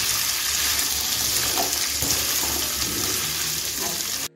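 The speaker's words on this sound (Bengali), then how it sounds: "এখন আলু পেঁয়াজটাকে আমি 4 থেকে 5 মিনিটের মতো একটু ভেজে নিয়েছি।" Potatoes and onions frying in a pan, a continuous dense sizzle close by that cuts off abruptly at the end, with no talking over it.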